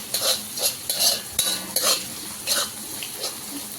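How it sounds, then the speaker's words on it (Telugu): Chopped onions and vegetables stir-fried for street-style veg noodles over medium-low flame, with a utensil scraping and clinking against the pan in repeated strokes over a soft sizzle, close and alone. "ఫ్లేమ్ మీడియం టు లో ఫ్లేమ్ అడ్జస్ట్ చేసుకొని ఇదంతా ఫ్రై చేసుకోవాలి."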